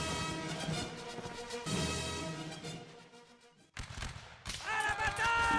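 Musket volleys and gunfire in a Napoleonic Wars line battle video game, sharp bursts over a dense, busy game soundscape, with a pause before loud shots resume near the end.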